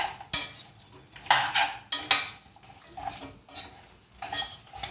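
A metal spoon stirs mutton masala as it is sautéed in a pan, giving irregular close scraping and clinking against the pan with little audible sizzle.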